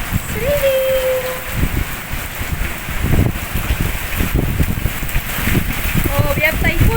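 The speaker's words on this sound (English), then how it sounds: "It's raining." Rain falling during a rare downpour in Dubai, a steady broadband patter and wash over wind noise, heard continuously with people talking over it throughout.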